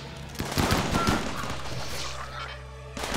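Shotgun gunfire during close-range combat in the video game Rimworld, a rapid cluster of sharp shots over a low game hum, fairly loud and continuous for a few seconds.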